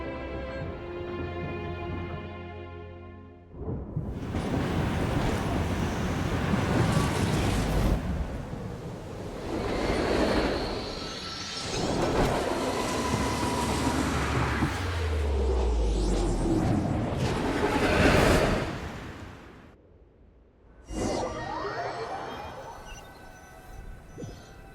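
A train in Genshin Impact runs along its rails with a heavy, roaring rumble that swells and dips for about fifteen seconds. Brief tonal game sounds come before and after it.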